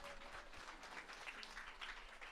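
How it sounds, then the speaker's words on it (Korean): Audience at a business lecture seminar clapping in a steady, fairly faint wash of applause that holds throughout, with no talk over it. "대단하면 박수 한번 부탁드릴까요?"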